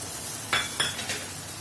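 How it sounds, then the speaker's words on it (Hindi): Masala mixture stirred into okra frying in a pan, two quick scraping strokes of a utensil over a soft steady sizzle. "अच्छे से मिक्स करेंगे।"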